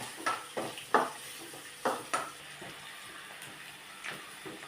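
Ginger and garlic sauté with turmeric in sesame oil in a pan, heard as a handful of soft scraping stirs and clinks over a faint, low sizzle, close by and fairly quiet.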